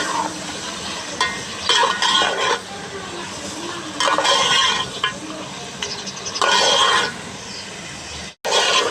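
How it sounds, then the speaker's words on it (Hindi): Beef masala with garlic paste frying in a pan, stirred in bursts, the sizzle rising and falling with each pass and cutting out briefly near the end. "दो मिनट तक इसको भून लेना है अच्छे तरीके से, तक कलर छोड़ जाए।"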